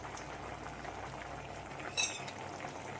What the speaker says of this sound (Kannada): ಬದನೆಕಾಯಿ ಮತ್ತು ಹುಣಸೆ ಹಣ್ಣಿನ ಮಿಶ್ರಣ ಚೆನ್ನಾಗಿ ಕುದೀತಾ ಇದೆ.